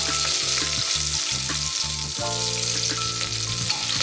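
Chicken is stir-fried with five-finger hairy fig root, giving a loud, continuous sizzle close by. Short bursts of scraping from stirring come at a quick, uneven rhythm, and no one speaks.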